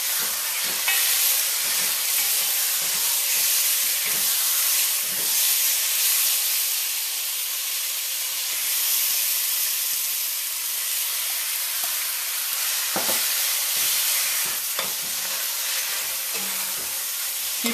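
Pork ribs sizzling as they are added to a hot pot for stewed ribs: a loud, continuous bright hiss of frying with steady crackle, plus occasional stirring knocks, and no talking.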